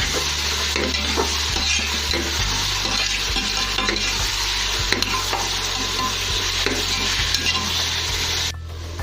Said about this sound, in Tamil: நம்ம இந்த வெங்காயத்தை சீக்கிரமாக வதங்கிறதுக்காக உப்பு சேர்த்து வதங்கினோம்னா சீக்கிரமாக